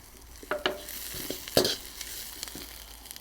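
Carrots being stir-fried with chicken in a pan, a soft continuous sizzle punctuated by several sharp utensil scrapes and tosses, close and fairly quiet.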